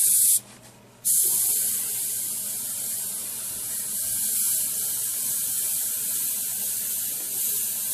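An airbrush sprays thinned Vallejo Model Color paint in a steady close hiss that cuts out briefly near the start and then runs on evenly, with no talking.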